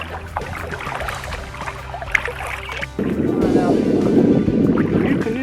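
An old Crown 119 Solo Sportsman canoe being paddled on open water, close soft splashing and water swirl with wind buffeting the microphone, louder in the second half, with someone talking over it.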